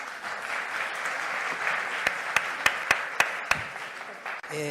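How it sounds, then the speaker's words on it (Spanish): Audience applause fills a hall at a children's and adolescents' meeting with presidential candidates: sustained dense clapping with several sharp, close individual claps standing out before it dies away. "Por favor, un fuerte aplauso."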